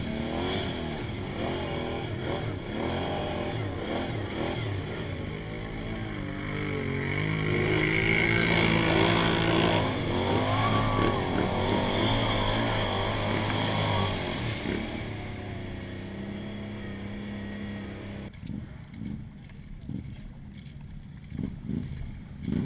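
A snorkeled Can-Am Outlander 1000 ATV with relocated radiator riding through Saskatchewan backcountry, its engine droning steadily and swelling in revs midway before easing off, with no talk.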